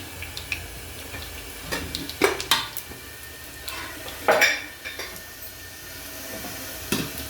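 Mustard seeds dropped into a ladle of hot oil in a pan crackle and sizzle softly, punctuated by a few sharp metallic clinks and stirring clatters.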